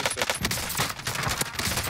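Rapid gunfire in Call of Duty Warzone from a nearby shotgun, a dense run of loud repeated blasts with a rough, overlapping rhythm throughout.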